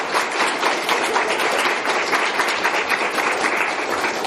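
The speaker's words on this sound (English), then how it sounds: "give a big round of applause to Katie" An audience at a university poetry prize event applauds Katie Peterson with a dense, sustained round of clapping that stays steady and fairly loud throughout.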